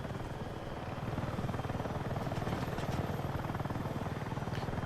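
A helicopter in Battlefield 6 flies with a loud, steady rotor chop close by and a dense engine roar, holding constant throughout.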